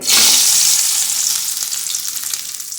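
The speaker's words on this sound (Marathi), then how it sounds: "खोबरं जरासं परतून घ्यायचं आधी" Grated coconut fries in hot oil for misal masala, a loud hissing sizzle that starts strong and gradually softens into a gentler crackle, with no voices.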